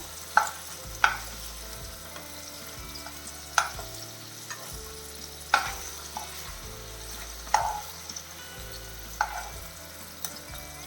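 Paneer cubes sizzle and fry in a pan with a steady, soft hiss, broken every couple of seconds by clinking stirs and turns of a utensil.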